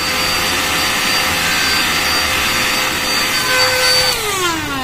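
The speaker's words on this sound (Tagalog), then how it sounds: "Ito pwede na natin siyang gamitin as blower." A portable 2-in-1 vacuum cleaner runs as a blower with a loud, steady whining motor hum, its pitch sliding downward near the end as it winds down, heard alone without speech.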